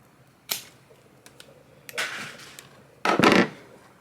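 Wire snipped clean in half near a fuse box during an electrical job: three sharp, close cutter snaps spaced apart, the last one louder and longer, with quiet room tone between and no talking.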